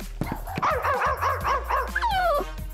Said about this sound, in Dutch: Waarom blaf ik?